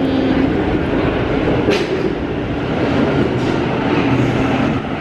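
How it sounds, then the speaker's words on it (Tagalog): A Sydney train pulling into a station, loud continuous rumble of wheels and carriages with a brief hiss and squeal near the end. "Yan na yung train."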